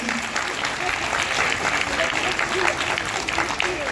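A crowd applauds guitarists at an evening music event, with loud, dense, unbroken clapping from many people filling the space and a faint voice underneath.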